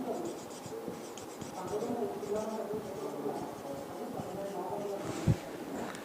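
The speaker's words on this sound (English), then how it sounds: "let me write here" Pen or marker scratching steadily across a surface as someone writes by hand, a close continuous scribbling texture with a small tap near the end.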